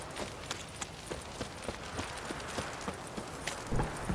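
Rhythmic clip-clop of horse hooves at a walking pace in The Witcher 3: Wild Hunt, evenly spaced, over a constant background rumble.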